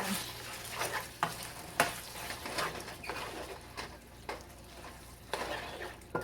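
Canned cream of celery and mushroom soup stirred together for a Chinese casserole, with soft scraping spoon strokes at irregular intervals against the dish, close and fairly quiet, no talking.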